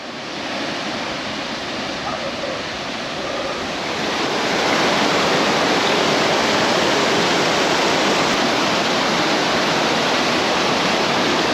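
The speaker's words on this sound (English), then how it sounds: "huge waterhole slash waterfall" A waterfall pours into a waterhole in Cape York, producing a loud, continuous broadband roar that swells and grows stronger midway as if approached more closely.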